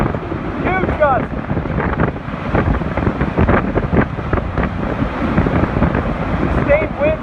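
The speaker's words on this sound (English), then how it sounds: "The winds are so strong now." Hurricane Michael's eyewall winds roar and gust violently, a dense, loud, continuous rush with surging peaks and rattling debris, a person speaking briefly at moments beneath it.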